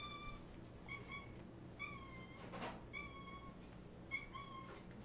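A cat meows four times in short, evenly spaced calls over faint room noise, with a soft thump between the second and third.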